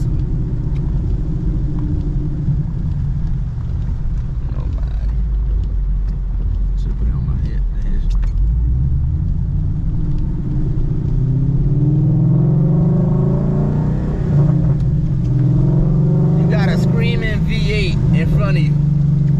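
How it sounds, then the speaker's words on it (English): A 2014 Mustang GT V8 exhaust rumbles steadily, then surges into a louder rising rev partway through, with brief voices breaking in near the end. "I can make this exhaust system sound loud if I want to."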